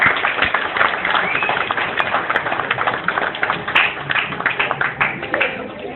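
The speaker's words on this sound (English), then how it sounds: "I want to clap." Scattered applause from a crowd at a high school graduation ceremony, dense and moderately loud claps rippling on and off throughout, mixed with voices.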